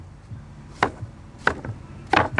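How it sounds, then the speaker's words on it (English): A knife chops food on a board in three sharp, separate thuds spaced under a second apart, close and clear with a quiet room behind. "These chopping skills are just amazing."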